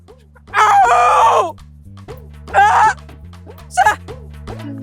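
A person imitates a rooster's cock-a-doodle-doo in three strained, loud bursts, one long and two shorter, over a steady backing of music.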